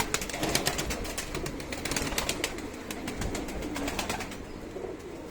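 Many racing pigeons coo and flutter close by, a dense murmur of soft calls with bursts of wing flapping over steady background noise.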